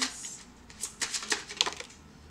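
Tarot cards being shuffled and drawn, a series of quick, crisp riffling clicks and snaps close up, irregular and without talking.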